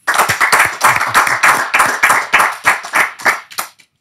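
Rhythmic bursts of audience clapping greet a forensic psychologist guest on an Indonesian talk show, loud and close for about four seconds before trailing off.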